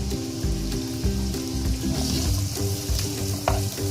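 Onions sautéing in oil in a kadhai, a close, continuous sizzle broken by rhythmic stirring scrapes, loud and busy over a low background hum, with no talk.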